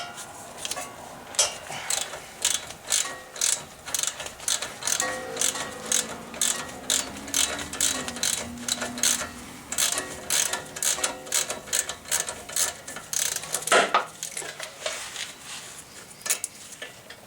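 A ratchet clicks steadily and close at hand while loosening a 12 mm fastener on a Honda Civic front strut. It gives a quick run of sharp ticks in short bursts with brief pauses, and a louder metallic knock comes near the end.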